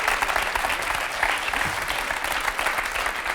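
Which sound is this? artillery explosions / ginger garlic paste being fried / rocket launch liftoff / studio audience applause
studio audience applause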